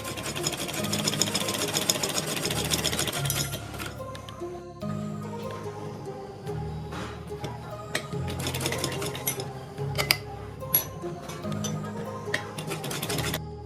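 A sewing machine stitches along the folded edge of a kurti neckline, a close, loud run of rapid mechanical whirring that stops near the middle, followed by quieter handling clicks and taps, with no voices.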